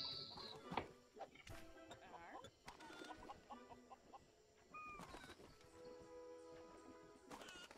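Chickens in the block-building game Lego Worlds cluck and squawk in short scattered bursts over a faint background, with other animal noises and footsteps mixed in, all fairly quiet.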